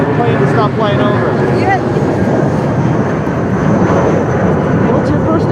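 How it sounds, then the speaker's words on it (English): A fixed-wing airplane passes overhead at an outdoor protest gathering, a loud continuous broadband engine roar that fills the whole stretch steadily, with people talking faintly beneath it. "We'll wait for the plane to stop flying over."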